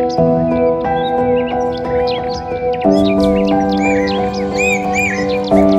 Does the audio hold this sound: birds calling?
yes